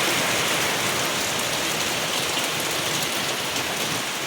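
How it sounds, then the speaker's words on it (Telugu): Heavy early-summer rain pours down steadily on a house, a dense, constant hiss of drops hitting surfaces with no pauses. "ఎంత వర్షం పడుతుందోనండి ఫుల్ రెయిన్ అండి"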